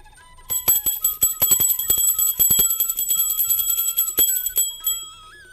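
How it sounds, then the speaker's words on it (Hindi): A small hand bell rings rapidly and continuously during a Hindu home worship ritual, bright metallic strokes tumbling over each other, close and clear for several seconds. "अब हमें धूपबत्ती लगाना है, तो आप घंटी ज़रूर बजा दें इस समय पर।"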